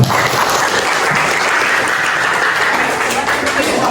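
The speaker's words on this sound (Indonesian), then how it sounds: "Oke, aplaus dulu" An audience applauds with loud, dense, sustained clapping that fills the whole stretch evenly and stays close and full throughout.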